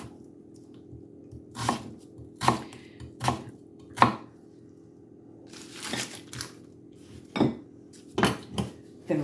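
A knife chops onion on a cutting board at home, with irregular sharp knocks in small bursts separated by pauses, close and clear over a faint steady background hum, with no talking.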